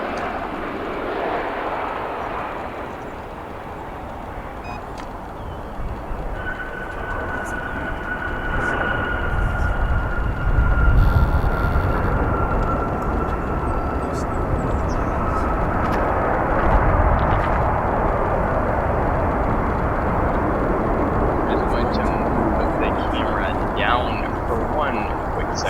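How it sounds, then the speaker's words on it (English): A United regional jet landing at Chicago O'Hare gives a broad, steady roar that swells and lingers at moderate distance, with voices talking underneath. "Take a look at a United temporary or regional aircraft"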